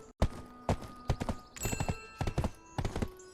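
Horse hooves clip-clop in a quick, uneven rhythm in Black Desert Online, crisp and close, with game interface chimes and tones ringing over the footsteps.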